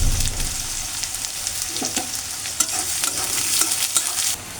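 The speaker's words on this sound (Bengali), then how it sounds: "এখন এটা ভালো করে ভেজে নেব পেঁয়াজের সাথে" Onion and garlic fry in a pan, giving a continuous close sizzle broken by repeated scraping strokes as a utensil stirs them, with no talking.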